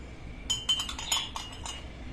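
Metal spoon lightly clinking against a coffee cup while scooping coffee into its bottom, a few quick soft taps close by over low background hiss.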